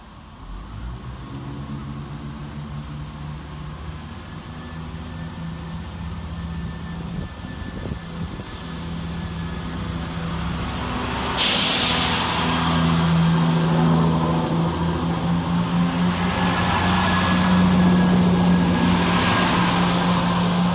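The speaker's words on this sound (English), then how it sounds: "So we'll get started here at Warwick with 168108 and 168325, departing with the 1605 Chiltern Railway service from London Marylebone to Birmingham" Chiltern Railways class 168 diesel units 168108 and 168325 depart Warwick station on a London Marylebone to Birmingham service, a steady low engine drone swelling and growing louder partway through, with no talk.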